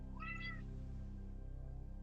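A house cat lets out a single clear meow near the start, fairly close, over a low steady hum, with no voices alongside.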